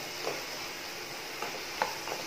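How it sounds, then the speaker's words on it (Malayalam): Melted sugar dry-roasting in a pan while it is stirred, a steady soft sizzle with a few faint scraping taps from the stirring, heard alone. "ഇത് ഡ്രൈ ആയിട്ട് റോസ്റ്റ് ചെയ്ത് എടുക്കണം"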